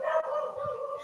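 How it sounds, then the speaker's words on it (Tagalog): A dog gives a short, faint yelp or whimpering bark indoors, heard only for a moment. "Sorry po sa aso yan."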